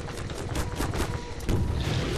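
Strider enemy firing in the Half-Life 2 video game, a rapid burst of loud repeated gunfire blasts with booming low impacts, close and dense across the whole stretch.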